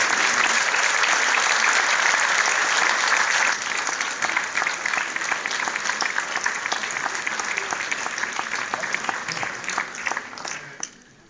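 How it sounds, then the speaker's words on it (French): Loud, thick applause from an audience at an election results announcement, intense at first, then easing slightly and carrying on steadily before tapering off at the end. "Je vous demande de leur faire un tonnerre d'applaudissements."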